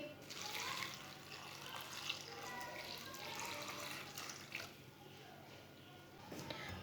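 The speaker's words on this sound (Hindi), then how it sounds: "एक गिलास पानी डाल लेंगे।" A glass of water is poured into a cooking pot holding potatoes, salt, turmeric and whole cumin for an aloo matar curry, a soft, quiet splash and trickle with faint talking underneath.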